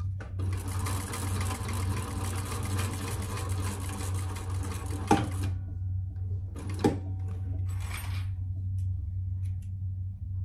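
A Thor sewing machine stitches a waist pack, running in a steady close mechanical hum and rapid chatter, then stopping, with a couple of sharp clicks and a brief burst of further stitching.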